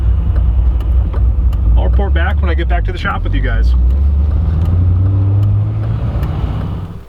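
An Iroc-Z Camaro drives along the road with a steady, loud, low engine drone heard from inside the car, while someone talks over it for a few seconds.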